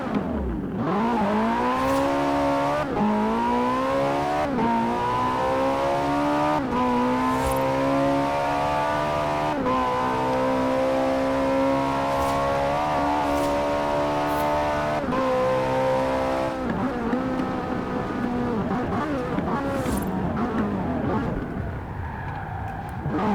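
A Forza Horizon 4 car engine heard from the cockpit on a custom track revs up and down through repeated gear shifts, a loud continuous roar with rising pitch sweeps and occasional tire noise.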